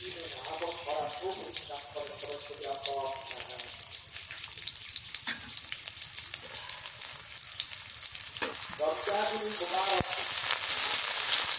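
Chopped onion fries in oil over a village kitchen fire in rural Bengal, a continuous loud sizzle and crackle throughout that swells louder near the end. A voice talks intermittently over the frying.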